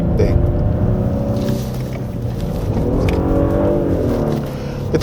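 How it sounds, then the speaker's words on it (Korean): 2024 Genesis G80 3.5 turbo AWD sedan downshifting on a winding mountain road, the engine note rising and falling in loud, close revs with audible gear changes. "다운시프트도 꽤 적극적입니다."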